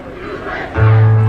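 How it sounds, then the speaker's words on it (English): A political rally crowd in Tucson, Arizona chanting USA in unison, a loud massed roar of voices that swells into a sustained shout near the end. "The crowd is currently chanting USA, USA, USA."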